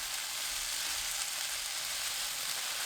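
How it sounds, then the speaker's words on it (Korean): Steady, dense sizzling of onions and minced garlic stir-frying over high heat in a pan, a continuous crackling hiss with no voices. "지글지글 소리 나면 바로 고구마 줄기 넣습니다"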